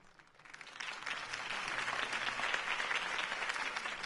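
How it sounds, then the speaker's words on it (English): Crowd applause follows a political campaign speech in the Telltale Batman video game, a dense roar of clapping that swells quickly from quiet and holds steady. "If only Mr. Wayne, my campaign's largest backer, could have heard that applause"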